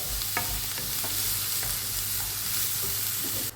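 Food frying and sizzling in a pan while being stirred, with the scrape of stirring over a steady sizzle, close and continuous and without talk, before mushrooms go in for a simple economical dinner.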